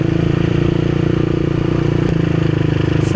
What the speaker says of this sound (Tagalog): Bawal sa amin yung ano sa ngayon eh, open muffler.